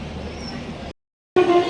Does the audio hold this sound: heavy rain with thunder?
no